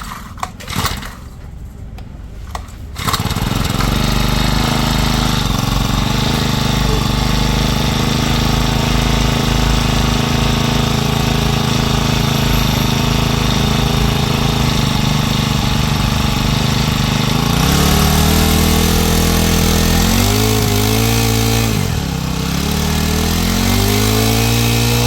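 A GX50 petrol grass cutter engine starts after a brief quiet moment, then runs loudly and steadily under test with a buzzing, jackhammer-like drone. Near the end it rises in pitch before settling back to an idle.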